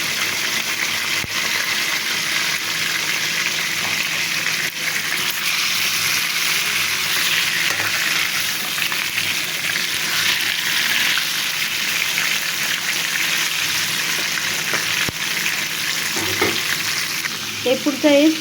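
Chicken pieces sizzle and fry steadily in a pan after the lid is lifted and they are turned over, a loud continuous hiss with faint stirring scrapes, no talking.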